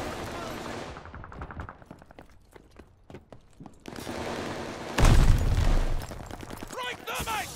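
A grenade blast and rapid gunfire in the Call of Duty Vanguard video game: a string of sharp shots, then a loud, heavy explosion with a rumbling tail, and excited voices shouting nearby.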